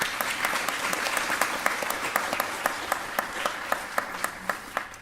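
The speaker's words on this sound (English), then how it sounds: "Let's give applause for Christopher Villarreal" Graduation audience applauding for an absent graduate, a steady wash of clapping with several individual sharp claps standing out in a near-regular rhythm.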